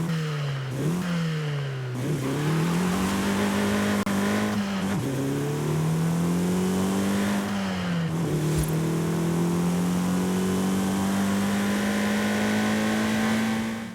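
A Nissan Sentra NISMO with a 1.6 litre engine in Forza Horizon 5 revs and accelerates repeatedly, its engine note climbing and dipping with gear changes in a steady, loud drone.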